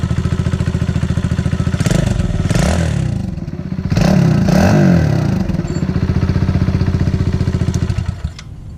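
A 2020 Kawasaki KLX110L dirt bike engine idles steadily while warming up, a close, loud, rapid putter with a few clattering blips and revs in the middle before it settles and fades at the end.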